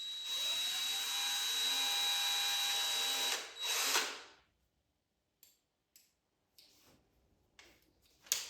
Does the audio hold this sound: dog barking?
no